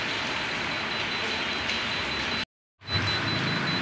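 A generator set sounds a low-oil shutdown alarm with a steady high tone over broadband mechanical noise, broken by a brief silent cut before the alarm resumes.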